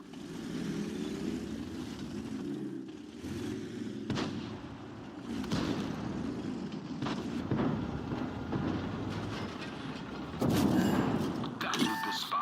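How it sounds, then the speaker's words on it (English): Tank cannon fire in World of Tanks, with a Churchill tank in the fight: a series of heavy booming shots and impacts spread across the clip over rumbling engine noise, with a voice talking at times. "is he just shooting me in the turret?"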